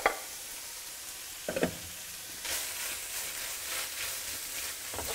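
Pre-cooked softened vegetables tipped back into a pan with browned mince, a quiet steady sizzle after a couple of stirring clatters, close and alone.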